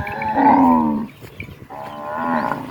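Cattle or buffalo on a farm give two long, loud, close moos, the first deep and drawn out and the second following after a brief gap, with no talk.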